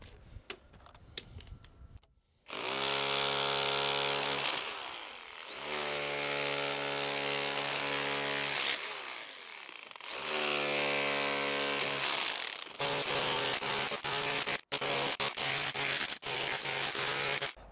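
A Bosch GBH 2-28 F rotary hammer chips at a concrete slab, its loud motorized hammering running in long bursts with brief pauses and clatter between.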